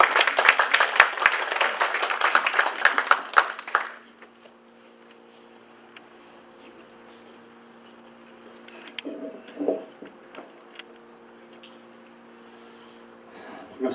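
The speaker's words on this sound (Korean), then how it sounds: "우리 박수로 환영하겠습니다" A burst of crowd applause at a California state senate campaign launch rally, dense and loud for a few seconds, then it dies away into quiet room hum with faint scattered sounds.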